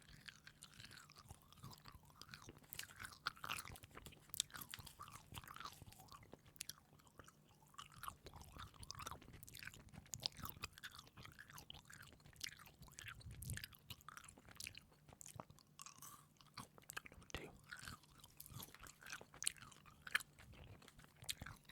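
Wrigley's Extra spearmint gum is chewed very close to the microphone, soft wet smacking and clicking in an irregular, continuous rhythm, with no talking.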